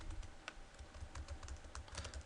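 A domain name is typed on a computer keyboard in a quiet room, with rapid, uneven key clicks close up and a few slightly louder strikes, no voices.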